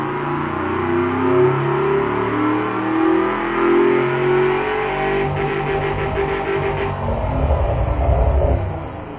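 A 1960s muscle car engine in the game Automation revs up and down with a deep rumbling, burbling note, swelling and falling in waves before a throaty low drone, loud and up close.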